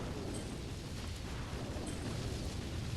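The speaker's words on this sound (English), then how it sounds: "These rockets just blasting him away." Rocket explosions from a video game battle make a continuous thick roar of overlapping blasts and rumble, loud and dense from start to end with no pauses and no talk.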